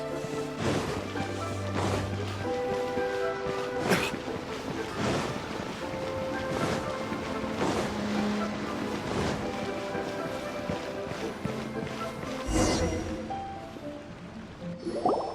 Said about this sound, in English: Are the waves here always like this?